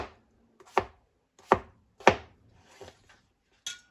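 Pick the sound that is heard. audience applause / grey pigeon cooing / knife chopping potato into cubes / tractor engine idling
knife chopping potato into cubes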